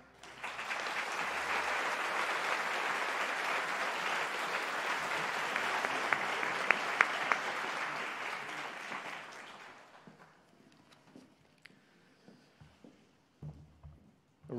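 Sustained applause from a large audience at a university doctoral graduation ceremony, steady dense clapping for about ten seconds that fades out into scattered claps and quiet hall noise.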